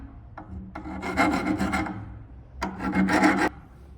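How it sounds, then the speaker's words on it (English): A metal file rasps across the metalwork of a 1920s industrial window being cleaned up after grinding, two close, loud bursts of rhythmic back-and-forth strokes separated by a short pause. "now we're going to clean it up with the files."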